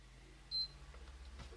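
An AverMedia C281 device gives one short, high electronic beep over a faint steady hum, with a few soft clicks afterward.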